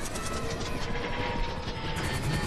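In the game GTA V, a helicopter's rotor throbs in a continuous, loud, dense chop with engine whine, constant throughout with no pause.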